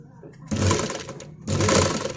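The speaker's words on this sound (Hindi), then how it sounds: "तो इस तरीके से आपको बिल्कुल किनारे पे चलाना है सिलाई को" Sewing machine running two fast stitching bursts as piping is sewn right along the fabric edge, loud and close with short pauses between, under a voice.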